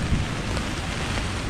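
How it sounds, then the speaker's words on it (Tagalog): Dense, loud rain roars steadily against a tent tarp at a campsite, with gusting strong wind mixed in and no voices. "pero ang lakas ng hangin at ulan"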